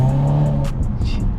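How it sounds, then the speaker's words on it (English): A car's engine drops through a downshift, a loud close rumble with a rising then shifting tone over about a second, heard from inside the cabin. "Hear that downshift?"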